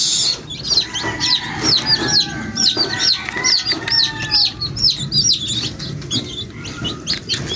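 A flock of hens with newly hatched chicks, dense high peeping from many chicks repeating over a lower bed of soft clucking and scuffling, close and continuous throughout.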